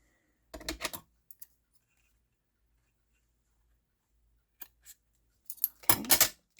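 Scissors snip through the end of a knotted string on an envelope craft: a few sharp cutting clicks in quick bursts, close and crisp, separated by quiet pauses.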